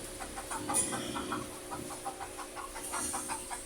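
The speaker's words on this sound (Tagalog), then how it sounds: "Natakot yung manok eh." A chicken clucks repeatedly in quick, pulsing bursts, faint and somewhat distant, with a brief high squawk near the start.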